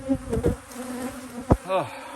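Honey bees buzz around the hives in an apiary, several close passes with droning hums that rise and fall in pitch as individual bees fly past.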